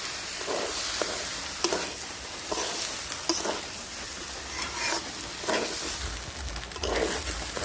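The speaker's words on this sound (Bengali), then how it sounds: "মশলার সঙ্গে ভালো করে চাল আর ডাল মিশিয়ে নেব আমি একটু ভালো করে নেড়ে ছেড়ে মিশিয়ে নিচ্ছি" Rice and dal being stirred with spices in a hot pan for chicken bhuna khichuri, a constant frying sizzle broken by repeated scraping strokes of the spoon, close up and with no speech.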